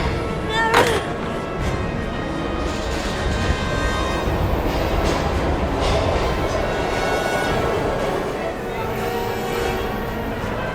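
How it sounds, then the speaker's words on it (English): A train in the video game Heavy Rain, a dense continuous rumble and clatter of rolling cars with a sharp metallic squeal near the start, loud and steady throughout. "We gotta get on that train, Ethan."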